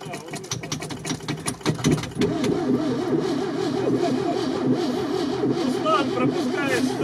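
A KrAZ truck engine cranks with a rapid starter whir, then catches and settles into a steady, loud idle, with voices talking at the beginning.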